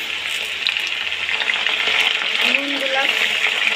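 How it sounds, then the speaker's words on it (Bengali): Potato chips frying in hot oil make a steady, close, crackling sizzle that holds throughout with little change. "তেলটা ভালো করে গরম হয়ে গিয়েছে। এবার আমি চিপস দিয়ে দেব।"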